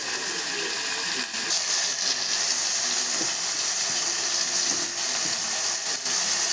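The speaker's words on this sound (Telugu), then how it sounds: "మనం తరిగి పెట్టుకున్న వంకాయలు అయితే వేసేసుకొని" Chopped brinjals (eggplant) sizzle steadily in a hot pan for a tamarind curry, a dense, continuous hiss and crackle with small pops, close and fairly loud, with no talking.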